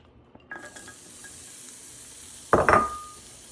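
Garlic hits hot sesame oil with a faint sizzle after a light clink, then a louder burst of crackling and spitting near the end, close and otherwise quiet with no talking.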